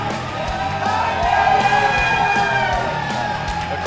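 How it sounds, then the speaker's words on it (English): A wrestling event crowd cheers, yells and whoops continuously, a loud dense roar of many voices with shouts rising above it throughout. "They sound like they're all Headbanger fans to me"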